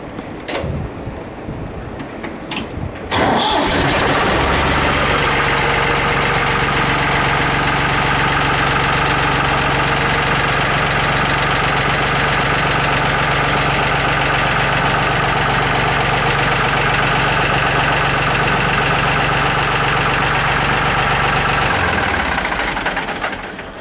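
A New Holland 3930 tractor engine cranks briefly, catches and settles into a loud, steady diesel idle that runs close to the microphone until it drops off at the very end.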